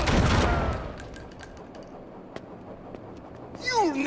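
Enemy gunfire in the Red Steel game on Wii, set in a Tokyo alleyway: a loud burst of shots at the start, then sparse cracks and clicks, with voices near the end.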